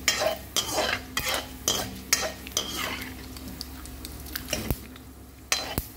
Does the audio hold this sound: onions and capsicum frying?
yes